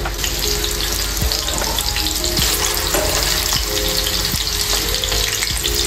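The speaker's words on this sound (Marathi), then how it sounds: "मीडियम टू स्लो मध्येच आपण ह्याला फ्राय करून घ्यायचं आहे।" Seekh kebabs frying in a pan over medium to low heat, a loud, continuous sizzle close up with occasional soft taps and crackles and no talking.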